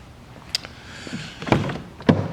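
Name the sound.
2014 BMW 750Li soft-close door closing itself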